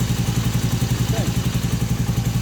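A Honda CB250N motorcycle engine idles steadily at about 1300 RPM with an even, throbbing low pulse that stays loud and close throughout.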